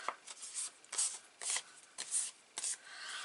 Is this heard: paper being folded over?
yes